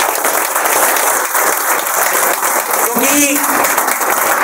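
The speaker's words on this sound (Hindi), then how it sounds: "आप एक बार जोरदार तालियां बजा सकते हैं प्रताप गुरुजी के लिए" Loud, dense applause fills a seminar hall as the audience claps for a guru, with a brief spoken word cutting through near the end.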